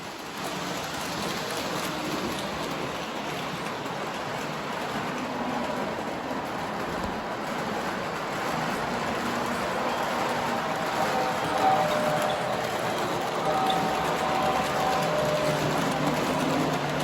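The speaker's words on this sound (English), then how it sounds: "And this train is on its way." A small TMCC-controlled model train rolls steadily along its track, a continuous soft whirring rumble that holds at the same level throughout with no talking.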